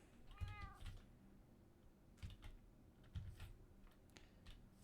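A cat in Minecraft gives a short wavering meow near the start, followed by soft clicking and tapping bursts, quiet overall with no speech.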